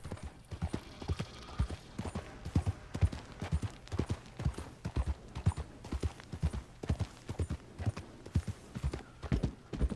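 Horse hooves clip-clop steadily in a quick, even rhythm while riding in the Red Dead Online video game, loud and close with no talk over them.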